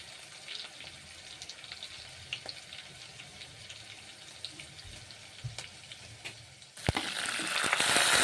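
Mustard oil heats in a kadai for frying radish greens, giving a soft, faint crackle with light clinks over a quiet kitchen hum, then swelling abruptly into a loud, steady sizzle near the end.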